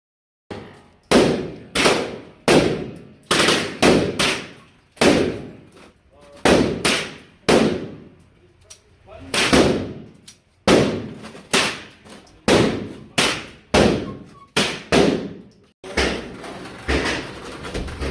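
Bursts of full-auto gunfire at an indoor shooting range, loud and close, repeating in many sharp volleys with short pauses between them across the whole stretch, with no talk.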